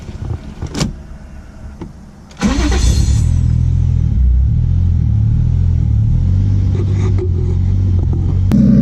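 A Nissan 240SX fitted with a 1JZ VVTi engine fires up and revs, a deep close rumble that rises and falls through several throttle blips, loud and alone.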